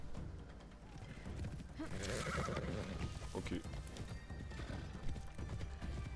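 A horse whinnies and its hooves clip-clop in the Assassin's Creed Shadows video game, the rhythmic hoofbeats running under game sound and music while someone speaks briefly.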